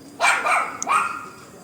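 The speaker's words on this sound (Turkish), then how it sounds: "Hayda bahçemizde bir kurt köpek geziyor." A wolfdog barks twice, close and fairly loud, with a short gap between the two barks.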